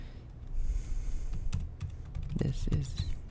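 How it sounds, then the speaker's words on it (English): Someone types on a computer keyboard, producing a scattered run of quick, close key clicks of varying loudness with some breathy noise in between. "As you can see, I'm typing here."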